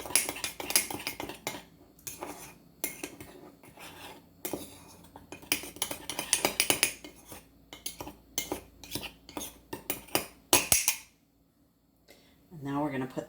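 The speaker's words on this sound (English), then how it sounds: "Now we're going to mix all that up" Cutlery clinks and scrapes in a bowl or mug as dry ingredients for a double chocolate mug cake are mixed, a busy run of metallic taps and stirring over about eleven seconds, with a voice talking alongside.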